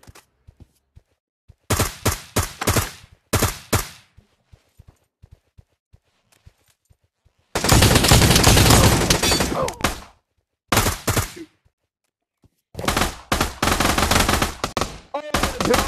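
Bursts of P90 submachine gun fire in Pavlov VR, several rapid loud volleys of varying length separated by silence and scattered single shots, including one long sustained spray.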